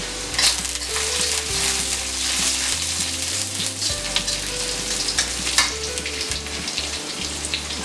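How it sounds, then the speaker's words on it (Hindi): Chopped garlic and ginger sautéing in a pan over a high gas flame for chicken Manchurian: a loud, continuous close sizzle broken by scraping stirs, with low background music. "इसको थोड़ा सेक लेंगे। गैस को हम फास्ट रखेंगे।"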